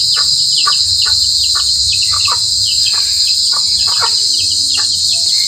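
A dense, continuous high-pitched trill of crickets in the afternoon in a backyard vegetable garden fills the air, loud and unbroken, with faint scattered clicks and rustles beneath.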